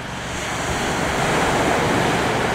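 Sea surf rolling onto the beach at Lyubimovka, a steady broad wash of breaking waves with some wind noise, close and fairly loud, no voices.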